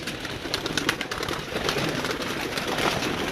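Pigeons coo on a rooftop as a flock flies, low calls blending into a dense, continuous wash of wind and outdoor noise.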